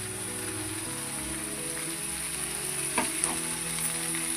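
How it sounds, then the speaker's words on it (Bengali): Chopped tomato and chili stirred in a frying pan in a village kitchen, continuous close sizzling with a low steady hum underneath and a couple of faint scraping taps near the end, no talking. "এবার ভালো করে নাড়তে থাকবো, প্রায় 5-10 মিনিট মতো নাড়তে হবে।"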